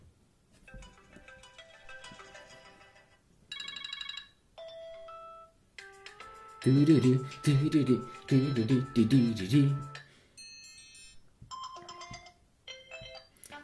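A series of separate iOS 7 phone ringtones and alert chimes play one after another, some short tinkling tones and one longer melodic ring, with a brief spoken word early on.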